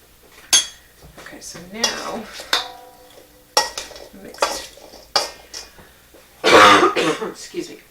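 A person coughs and clears their throat a few times while preparing hot peppers, mixed with clinking of a bowl and utensils, close and fairly loud.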